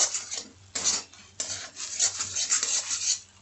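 Raw banana peel paste with salt and sugar frying in a pan, with repeated scraping and stirring of a utensil against metal in steady, close bursts.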